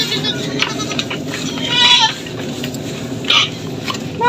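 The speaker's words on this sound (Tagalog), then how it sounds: "pasalan niya yung kambing, mga kambing" Goats bleat repeatedly on a farm, with several clear calls standing out over a steady background of other animal noise and a faint voice.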